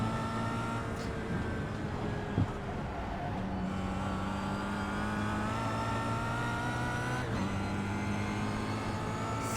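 Kia Optima race car engine in iRacing on the Nordschleife, a steady loud droning hum with sustained tonal whine, shifting pitch slightly with throttle changes and a brief click near the start.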